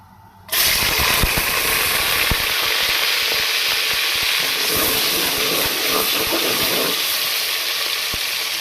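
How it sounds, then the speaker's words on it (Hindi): Onions drop into hot oil for a Pakistani aubergine and taro dish, bursting into a loud, steady sizzle that starts abruptly and holds with crackling pops throughout, no voices. "अब हम इसमें डाल लेंगे प्याज।"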